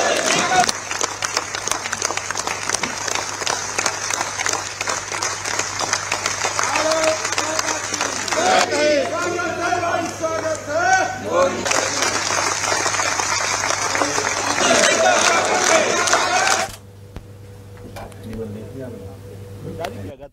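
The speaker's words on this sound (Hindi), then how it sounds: "सभी सांसद जो राज्यसभा और लोकसभा के थे, सभी ने तालियां बजाकर प्रधानमंत्री का स्वागत किया" Members of parliament from the Rajya Sabha and Lok Sabha clapping to welcome Prime Minister Modi after a big election win: sustained loud applause from a large crowd with some chanting, which drops away near the end.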